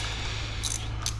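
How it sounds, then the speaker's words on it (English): Ratchet wrench undoing a wheel nut on a Raith direct drive rotating assembly: two quick bright clicking bursts over a low steady mechanical hum, close and fairly quiet. "and remove the wheel nut, put it to the side."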